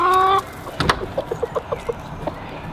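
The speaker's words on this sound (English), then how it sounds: "The chicken's getting sweeties." Pet hens cluck while being fed treats in a garden, one drawn-out squawk followed by a run of short, evenly spaced clucks close by.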